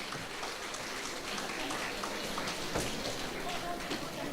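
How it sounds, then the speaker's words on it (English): Preschool annual day audience clapping to cheer up a sad little girl, dense continuous applause from many hands with a faint voice underneath. "let's make her happy by clapping as much as possible"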